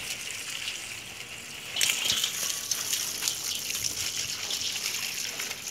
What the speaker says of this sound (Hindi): पानी पहले डाल देते हैं